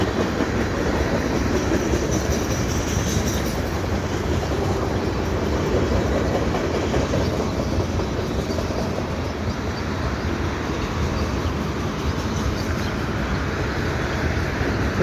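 A long CN freight train with a six-truck depressed center flatcar rumbles steadily past close by at Beaconsfield footbridge, wheels clattering over the rails with a continuous heavy roar and occasional faint metallic squeal.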